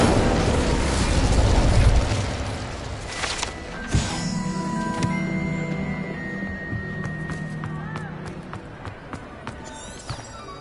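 Incendio fire spell cast in Hogwarts Legacy, a loud whooshing, rumbling fire burst in the first two seconds, then a sharp impact and a trail of magical chimes, pops and tonal game effects fading out.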